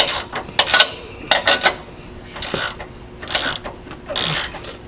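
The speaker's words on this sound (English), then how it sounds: "Where's that ratchet wrench?" A ratchet wrench clicks rapidly in short bursts while someone works on a Prostar Pro ride system replacement. The bursts come close and loud, separated by brief pauses.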